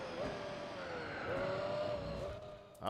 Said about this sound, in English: Oh, that race car.